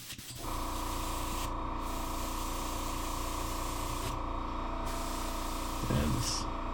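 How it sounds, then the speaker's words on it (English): Steady hiss of an airbrush spraying Createx paint continuously on a shad fishing lure, with a brief pause and a faint clatter near the end. "Do a test spray here."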